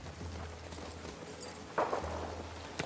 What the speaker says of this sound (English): We can use that horse.